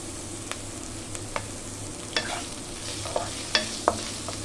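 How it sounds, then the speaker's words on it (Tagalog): Garlic and white onion being stir-fried in a pan, with a low steady sizzle and a few sharp, scattered clinks and scrapes from stirring. "Ayan, halo-haloin lang natin para lumabas ang kanyang aromatics."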